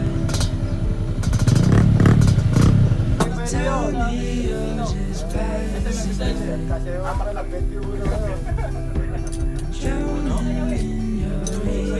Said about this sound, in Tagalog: Yung mga gamit natin motor.